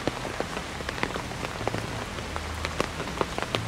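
Rain falls on blue stone at the grave of songwriter Trịnh Công Sơn as a steady hiss of drops, with scattered sharper taps from individual drops and no voices.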